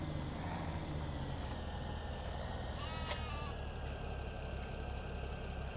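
Sheep bleating in the Farming Simulator 2017 farming game, a single clear bleat rising over a constant low idling engine drone, with no talk.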